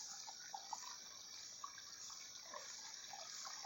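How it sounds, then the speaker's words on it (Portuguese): A stream running down past a fence outdoors, a soft steady trickle and babble of water with a few faint drips, alone with no talk. "Descendo aqui esse córrego direto."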